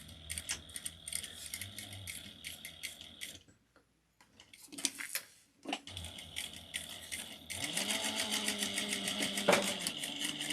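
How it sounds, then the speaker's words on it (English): A sewing machine back stitches on a handbag in short start-stop bursts, with a rattling needle pulse, a brief quiet gap mid-way, then a longer steadier run at moderate volume. "Back stitch at the beginning and the end."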